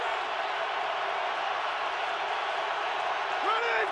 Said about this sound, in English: This crowd is ready on a Thanksgiving.